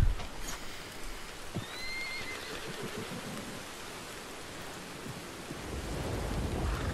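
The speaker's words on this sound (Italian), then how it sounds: "quel cavallo non si fermava" In Red Dead Redemption 2, a horse gives a short, high whinny near the start amid steady rain and low stormy rumble, with hoof-like thumps and ambient noise continuing afterward.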